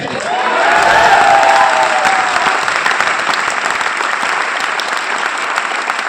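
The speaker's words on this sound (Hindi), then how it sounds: "थैंक यू सो मच आपकी तालियों के लिए" An audience at a direct selling company business event breaks into loud, sustained applause with some cheering, swelling in the first second and then holding steady.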